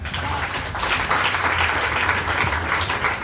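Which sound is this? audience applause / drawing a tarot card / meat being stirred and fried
audience applause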